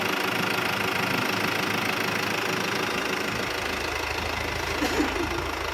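A new Hino truck's diesel engine idles steadily with a rough, knocking rumble, constant and moderately loud throughout, with no voices.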